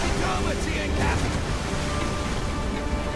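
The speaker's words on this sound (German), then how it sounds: "War das eine Welle jetzt gerade?" Stormy ocean waves in Assassin's Creed 4 Black Flag during a hurricane: a steady, loud broadband roar of rushing water, with a faint voice in the background.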